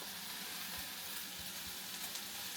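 Pumpkin talkari ingredients tossed into a pot before the oil is fully hot give a soft, steady sizzle with a faint crackling hiss throughout, quiet and continuous.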